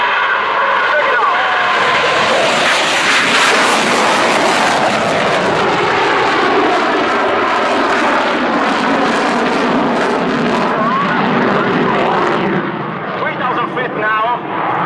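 An Italian Air Force Eurofighter Typhoon jet flies overhead at an air display with a loud, sustained roaring thunder that holds for most of the stretch, then eases slightly near the end.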